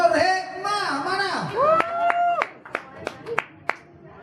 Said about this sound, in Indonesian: Tepuk tangannya buat Nur Hikmah, mana?